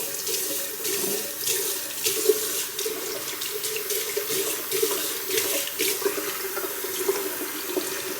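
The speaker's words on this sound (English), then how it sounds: "So we have to let it run a little bit so it really gets cold here." A bathroom tap runs cold water into a sink in a steady, close, continuous splashing stream with no voices over it.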